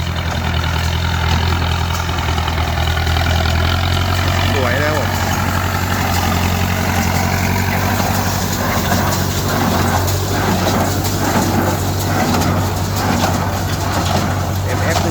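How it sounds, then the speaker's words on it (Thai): A Massey Ferguson tractor engine running a hay baler idles and chugs steadily with a low rumble in a rice field, while someone talks over the machinery throughout. "รถไถแมสซี่เบอร์กูสันครับผม"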